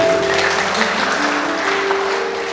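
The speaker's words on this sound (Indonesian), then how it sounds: "Tepuk tangan bagi Tuhan ini." A church congregation claps together in a sustained, dense round of applause with a few cheers, steady throughout.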